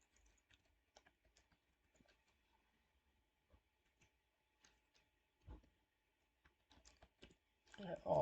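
Sparse, quiet computer keyboard keystrokes tap out words in short irregular runs while a post is being written in WordPress, with a voice speaking briefly near the end.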